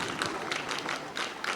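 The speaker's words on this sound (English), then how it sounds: "All the groups deserve a round of applause." An audience at a school World Environment Day event claps for student groups, with close, uneven bursts of hand claps repeating through the moment.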